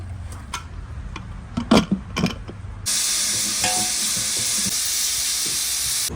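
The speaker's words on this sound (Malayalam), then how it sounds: "എത്ര വിസിലാണ് ഇനി കുക്കർ കിടന്നത്?" A pressure cooker full of beef for beef kondattam lets out a sudden loud, steady hiss of escaping steam partway through, continuing unbroken to the end after a few earlier clinks and knocks.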